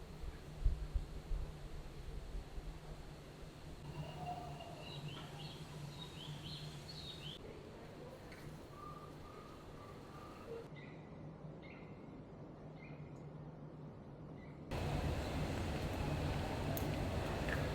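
Birds chirp and call intermittently at a distance over a steady outdoor hiss in a park with thousands of live plants aboard the cruise ship Utopia of the Seas, with no talking.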